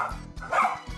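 A poodle barks in several quick bursts, close and clear, with a brief lull between the barks and no voices over them.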